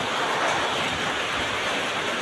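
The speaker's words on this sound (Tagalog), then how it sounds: "Pasensya na, medyo maingay dahil malakas ang ulan." Heavy rain pours down outdoors, a dense, steady hiss filling the whole stretch with no breaks and no voices.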